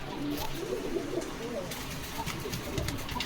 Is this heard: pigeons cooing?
yes